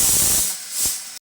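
Steam hisses steadily and loudly from a kitchen pressure cooker, a broad airy rush that swells briefly near the end before cutting off abruptly.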